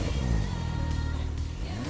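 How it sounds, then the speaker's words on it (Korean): A supercar engine and exhaust rev loudly and steadily close by, a dense continuous roar that holds for the whole short stretch with no talking over it. "편안하고 안락한 승차감 유지는 물론 엔진음과 배기음이 주고받는 하모니는"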